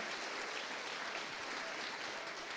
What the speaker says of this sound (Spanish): Can someone give the Lord a clap offering?